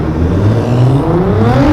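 A Nissan GT-R accelerating hard in a quick pull, a loud, close engine roar with rising whir climbing steadily in pitch, heard alone without talk.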